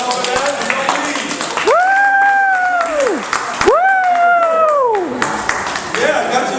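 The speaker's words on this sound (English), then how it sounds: "Give her a nice round of applause to help her out." An audience at a Purim magic show claps and cheers in a sustained burst of applause, with loud whooping calls rising and falling over the clapping.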